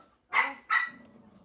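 Two quick dog barks, close and fairly loud, about a third of a second apart, followed by faint low background noise.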